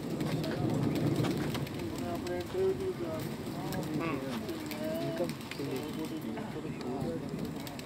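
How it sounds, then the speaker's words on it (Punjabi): Sialkoti pigeons in a loft coo repeatedly, a run of throaty, rolling calls from close by, mixed in with people talking in the background. "ਸਿਆਲਕੋਟੀ ਕਬੂਤਰ ਕਰਾਸ ਕਰਕੇ ਬਣਾਇਆ"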